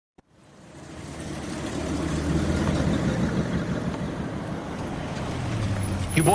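A car engine in the video game L.A. Noire starts from silence and settles into a steady, moderately loud running drone that builds over the first two seconds and holds evenly.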